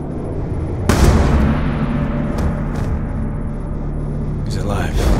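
A single loud, booming gunshot goes off in Call of Duty Black Ops 2, followed by a rumbling tail and a few fainter thuds against steady background noise, with talk during the scene.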